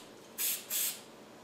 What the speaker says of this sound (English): we want to take this some pan spray here and just spray the inside, just like that